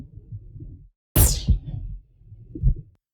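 Pitched-down transient of a magic impact sound effect: a sharp, heavy hit with a bright attack that sweeps downward, framed by low, dark rumbling textures before and after.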